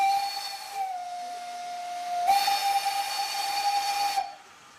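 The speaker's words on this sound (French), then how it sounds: "le bruit de ces vieux sifflets" An old steam locomotive whistle on the Ardèche tourist train sounds loud and close in two long blasts, steady and shrill with a hiss of steam, the second longer than the first.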